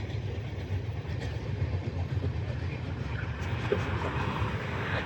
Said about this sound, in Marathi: बघा एक ट्रेन जाते आता इथून